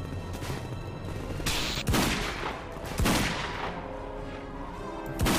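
Gunfire in the Half-Life 2 mod The Closure played in Garry's Mod, several sharp loud shots and bursts close by over a constant rumbling background.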